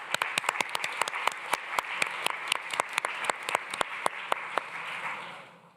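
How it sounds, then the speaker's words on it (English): Applause in a conference plenary hall, with sharp individual claps standing out over a steady wash of clapping for about six seconds before it fades out at the end. "let's give another round of applause for this success"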